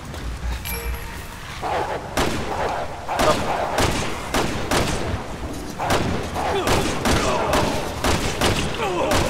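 Gunfire in Resident Evil 6, from the Leon co-op campaign in a graveyard, comes as irregular loud shots and thuds over game ambience, spaced unevenly across the stretch.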